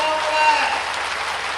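Audience applause at an outdoor public event for a renewable energy project groundbreaking in Narmadapuram, a dense, steady wash of clapping lasting under two seconds with no speech.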